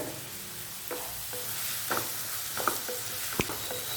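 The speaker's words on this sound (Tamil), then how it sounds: "வெங்காயம் நல்லா எண்ணெயில் வதக்கி எடுக்கணும்." Onions sautéing in oil for a peanut kara kuzhambu, stirred with a spoon, giving a soft steady sizzle broken by several scraping clicks and taps against the pan, close up with no talking.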